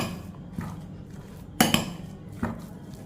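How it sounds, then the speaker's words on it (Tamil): Spoon stirring chopped ingredients, including coriander leaves, in a bowl while preparing a weight-loss recipe, with a few soft clinks and scrapes against the bowl in a quiet kitchen. "இப்போ எல்லாத்தையும் நல்லா மிக்ஸ் பண்ணிக்கிடுவோம்."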